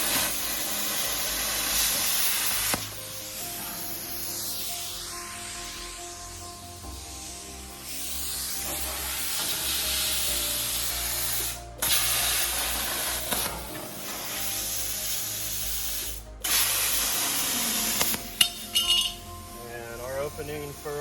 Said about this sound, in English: we'll plasma cut that right out